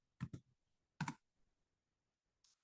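Typing on an Ubuntu computer keyboard at a command line: a quick double keystroke cluster, another pair of clicks a moment later, then a single faint tap, close and clear with no talking.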